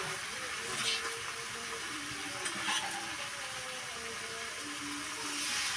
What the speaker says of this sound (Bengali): তো এখন মশলার সাথে ভালোভাবে কষিয়ে নেব।